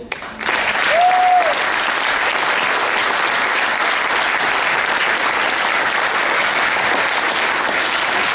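A football club audience gives sustained, dense applause for Player of the Season Caden Woodward, steady and loud from start to finish, with a short whistle near the beginning.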